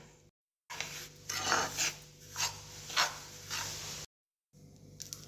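Semolina (rava) dry-roasting in a pan for upma, stirred with close, gritty scraping strokes that repeat in a steady rhythm of about five passes, broken by two short silent gaps, with no voices.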